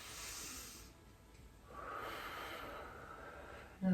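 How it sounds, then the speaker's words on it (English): One person draws a deep, audible breath during a yoga pose, close and faint. An airy inhale swells midway through, and a brief sound cuts in at the very end. "Take a breath here."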